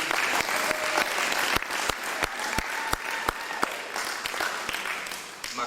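Audience applause at a lecture hall talk, sustained clapping from a crowd with sharp individual claps standing out, steady and loud throughout before gradually thinning.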